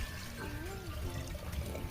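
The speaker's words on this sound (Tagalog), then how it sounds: "Lagyan po natin ng tubig." Water runs into a cooking pot during preparation of a bitter gourd and mushroom dish, a soft, steady trickle and splash that is faint under a noisy outdoor background.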